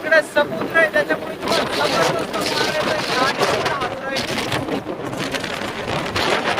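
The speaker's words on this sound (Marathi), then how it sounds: "लय जबरदस्त वारा येत आहे समुद्राच्या याच्यामुळं" Strong sea wind sweeps across the coast near Dwarka, a steady broadband roar buffeting the microphone from start to finish, with a voice talking over it in the opening seconds.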